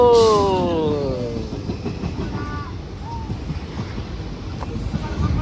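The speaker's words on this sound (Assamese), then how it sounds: "এই ট্ৰেইন আহিছে ট্ৰেইন আহিছে আমাৰ ট্ৰেইন আহিছে" A train passing through a village, opening with a loud horn blast, then a steady rumble and rhythmic clatter of carriages close by, with wind buffeting the microphone.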